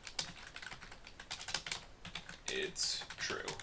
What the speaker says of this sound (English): Let's just type it over here.